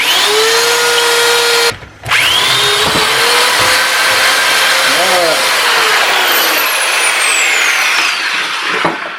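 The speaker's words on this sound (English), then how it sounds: "So I'm gonna drill a 1/4 inch hole in the right spot." A power drill bores a 1/4 inch bolt hole through a metal jack handle during a repair, whining steadily and loudly for about nine seconds with a brief stop and restart near the two-second mark.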